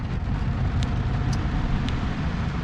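Chevy Silverado pickup truck engine idling after a remote start, a steady low rumble with continuous noise and a few faint high clicks, close and without speech.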